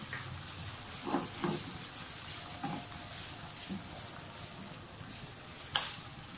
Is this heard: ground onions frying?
yes